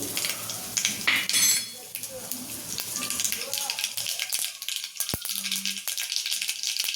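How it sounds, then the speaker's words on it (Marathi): Mustard seeds splutter and crackle in hot oil while a green masala for patwadi rassa is being made. Sparse pops and sizzles are heard with occasional utensil clinks. "मोहरी छान तडतडली"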